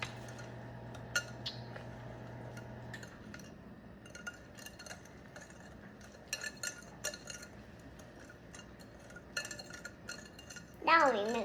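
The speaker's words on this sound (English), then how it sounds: "Let's use the whisk, and we're gonna whisk again." A whisk clinks and scrapes against a bowl of cupcake batter in a home kitchen, with irregular metallic taps and rattles throughout, a short hum at the start, and soft voices talking in the background.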